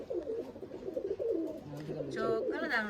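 Teddy pigeons, fancy pet birds kept at a home loft in Bolpur, coo softly in low repeated murmurs close by, while a voice talks over them throughout.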